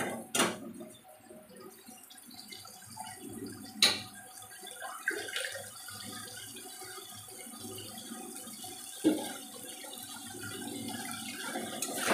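Water splashes and trickles into a pan of poppy seed and mustard paste, a quiet wet pouring with a few sharp knocks against the pan.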